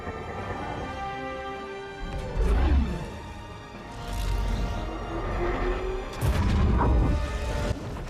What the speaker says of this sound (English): The explosion is because of the jump being made within the atmosphere